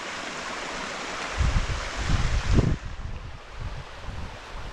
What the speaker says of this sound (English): Little bit of wind coming off the cliff.